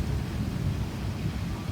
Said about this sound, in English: And it is thundering as well.